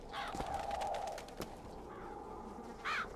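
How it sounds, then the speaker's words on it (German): Ravens in the video game BioShock Infinite caw and croak repeatedly at moderate distance over steady ambient game sound, with scattered faint clicks. "Was hat das dann mit den Raben hier auf sich?"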